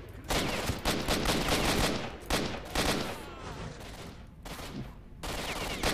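Loud bursts of gunfire rattle in the video game STALKER: Shadow of Chernobyl, rapid automatic volleys in dense clusters with short gaps, close and harsh with no talk.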